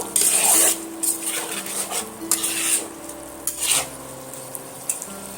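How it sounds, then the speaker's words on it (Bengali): A spatula scrapes and stirs in a metal pan while potatoes and spices fry for dum aloo with a soft sizzle, no talking. "আলুর সঙ্গে সমস্ত মশলাটা ভাজা ভাজা করে নেব"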